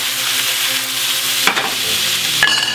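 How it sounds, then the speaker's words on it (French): Onions frying in a pan give a bright, steady sizzle, with a couple of louder utensil scrapes near the middle and end. "Les oignons dans la poêle."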